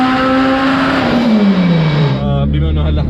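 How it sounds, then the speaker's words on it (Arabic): A Mitsubishi Evo 5 RS engine on a dyno revs hard, its loud pitch holding and then dropping as revs fall off near the end, with a voice briefly audible under it. "بس نبرد السيارة شوي ونفتح بوست كمان شوي ونعمل رن هلا"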